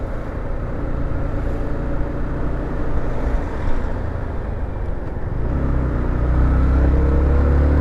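A Yamaha XSR 125 motorcycle engine accelerates steadily while being ridden, a continuous low drone with wind rush that swells slightly louder toward the end, with no talking.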